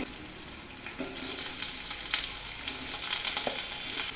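Onion frying in a pan for okra curry, a steady close sizzle with crackling bursts and occasional stirring scrapes, no voices.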